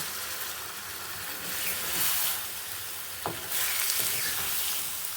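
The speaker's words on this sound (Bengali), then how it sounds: "এবার ভালো করে নেড়ে মিশিয়ে দেব" Mutton vindaloo being stirred in a sizzling pan after a splash of water, a loud continuous frying hiss broken by a few scraping strokes of the spoon, close up with no talking.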